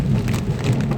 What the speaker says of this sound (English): Roads are partially flooded, but the rain is still coming down